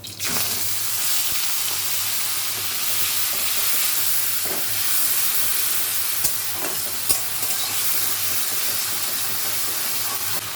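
Onion, ginger, cumin, and green and dried chillies fry in hot oil in a pan, giving a steady, close, loud sizzle and hiss with a few soft clicks of stirring, and no voices.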